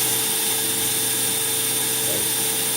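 A power drill spins steady and constant to twist wire into a coil for a vape build, its motor whine continuous and close throughout, with a brief dip in pitch near the end.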